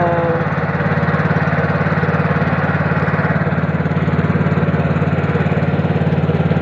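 A motorboat engine runs steadily and loudly up close, a continuous buzzing drone with a throbbing low rumble and no change in pace throughout.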